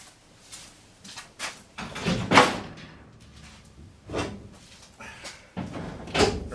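A 1964 Ford F100 truck door being worked, heard as a series of clunks, thumps and latch knocks spread across several seconds, moderately close with quiet gaps between.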